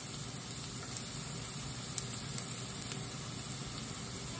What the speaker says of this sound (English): we'll be searing that down and browning it in a pan with a little bit of olive oil and a pat of butter to keep the oil from burning